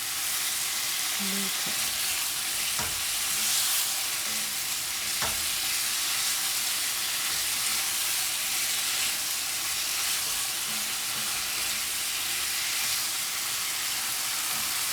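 Brussels sprouts fry and caramelize in a hot pan, a loud, close, continuous sizzle with brief stirring scrapes, and a person says a few words over it.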